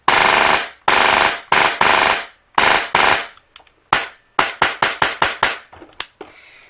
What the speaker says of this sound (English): Full auto is set to 25 rounds a second.